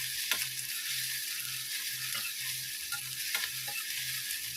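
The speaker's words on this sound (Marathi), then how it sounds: "कांदा छान भाजून घ्यायचा आहे." Finely chopped onion sautéing in a pan after cumin has crackled, a soft steady sizzle with occasional sharp spatula scrapes and a rhythmic low mechanical hum pulsing underneath, no voices.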